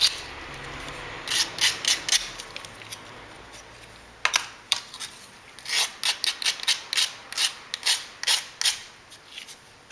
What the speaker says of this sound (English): Sand off any tabs.